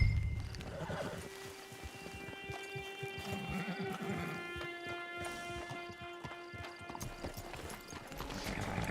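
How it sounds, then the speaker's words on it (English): A horse in the video game Red Dead Redemption 2 clops its hooves in a steady rhythm and gives a clear whinny near the end, with game music playing underneath. "Get your horse."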